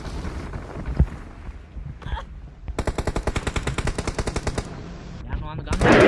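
Automatic gunfire from the mobile game BGMI, with a long rapid burst of evenly spaced shots after some scattered shots and game noise, loud and close.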